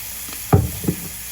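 Soy sauce poured into a hot pan sizzles in two short bursts, a stronger splash followed by a softer one, close up with no talking.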